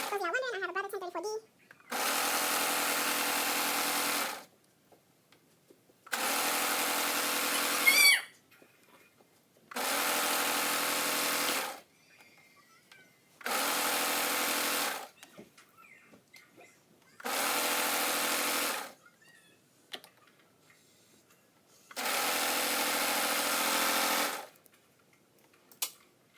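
A Brother 1034D serger whirs through the black edges of a scarf in seven loud, steady bursts of a few seconds each, separated by quiet pauses, with a brief voice at the start.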